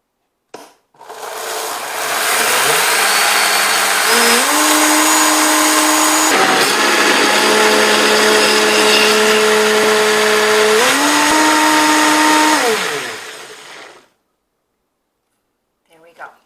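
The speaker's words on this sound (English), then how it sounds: "we're going to put this on the blender and blend until it's creamy" A blender whips waffle batter until creamy, running loud and steady for about thirteen seconds with its whining motor pitch stepping up and down as the speed changes, then stopping.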